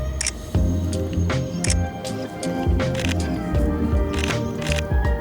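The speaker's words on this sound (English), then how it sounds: "I am going to be switching between the electronic and mechanical shutter" A Sony A7RVI mirrorless camera fires repeated shutter clicks, switching between electronic and mechanical shutter, producing sharp irregular snaps and short bursts close to the mic over outdoor background noise.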